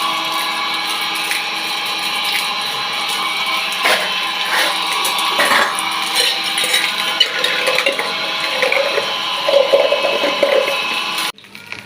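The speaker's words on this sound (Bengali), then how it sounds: "এবার ঠাকুরের বাসন ধোয়া হবে, মেজে নিয়েছি, ধুবো এবারে" Brass puja utensils for a household deity are rinsed under running water, a loud continuous gush with metallic clinks and knocks of the vessels against each other, ending abruptly.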